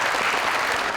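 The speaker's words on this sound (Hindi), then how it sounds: "तालियां" Steady applause from a studio audience at a televised music show, dense and continuous for a moment with no voices over it.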